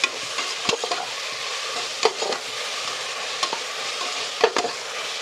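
Tomatoes and mint sautéing in a pressure cooker for biryani give a steady close sizzle, broken by a few sharp clinks and scrapes of a stirring spoon against the metal pot.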